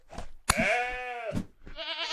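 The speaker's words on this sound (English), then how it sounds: "There's so many goats." Goats bleating in a blocky Minecraft-style survival game, a few separate wavering bleats with brief gaps between them, close and clear with no talk over them.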